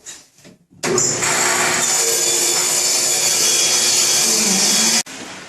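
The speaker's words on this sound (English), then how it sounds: "I'm going to lower my blade to just about 1/4 inch higher than my work surface here, my work piece, and run these 4 pieces through" A table saw with its blade set low rips a wooden workpiece, a loud sustained cutting roar lasting about four seconds that stops abruptly, with a few faint knocks before it starts.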